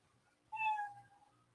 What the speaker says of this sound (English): you know that your 60 seconds is up when you hear that meow